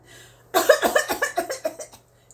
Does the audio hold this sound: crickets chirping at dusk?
no